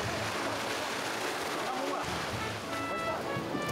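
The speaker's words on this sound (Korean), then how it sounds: "밀려오는 파도를 뚫고 힘을 모아서 다시 한번 전진입니다" Ocean waves break and surge on a Vanuatu beach as a boat resting on the sand is pushed out to sea, a steady close roar of surf mixed with wind buffeting the microphone.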